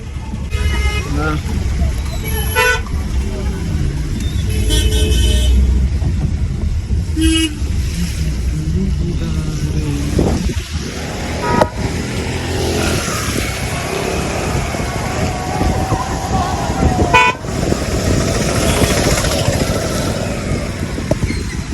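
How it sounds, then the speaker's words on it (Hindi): Car and motorcycle horns toot repeatedly in a congested roadside traffic jam near Sopore, with engines idling and rumbling around them. Short honks come from several vehicles at varying distances, and voices are heard over the street noise. "लेकिन यहाँ पे बहुत ज़्यादा ट्रैफिक जैम है।"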